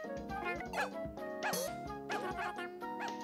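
A cartoon dog yips, barks and whimpers in short bursts, laid over bright tuneful game music from Yoshi's Woolly World on Nintendo Switch.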